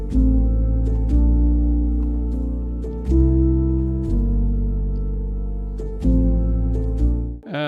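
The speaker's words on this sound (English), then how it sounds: "As you can see in this section, we added some high notes to the piano layer." Piano layer in an orchestral downtempo track, sustained low chords changing roughly every second or so with a few added high notes on top, loud and close, playing alone without voices.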